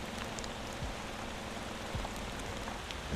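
Steady rain in the driving game Motor Town, a soft continuous patter and hiss with occasional louder drops, fairly faint and heard alone.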